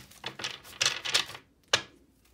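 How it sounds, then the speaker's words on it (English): A deck of tarot cards being shuffled close up: a rapid series of crisp, fluttering riffles in quick bursts, then a pause and a single final snap. "One more good shuffle here."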